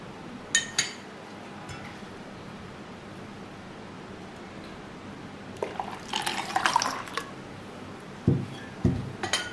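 Blended green mango juice with green chilli pours into a jug in short liquid splashes and trickles, with a few clinks and drips over quiet background hiss.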